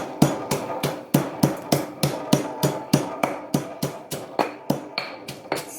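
Chillies pounded in a mortar for papaya salad, a steady series of about twenty sharp, evenly spaced thuds from a pestle, close and distinct, with no talk.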